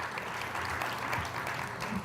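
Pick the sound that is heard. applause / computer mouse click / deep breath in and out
applause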